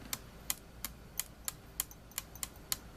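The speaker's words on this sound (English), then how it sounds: "You can hear me clicking the switch on and off." A PWM switch on a hacked magnetic stir plate is clicked on and off about ten times in an even rhythm, each click a sharp, faint, close tick over a quiet background.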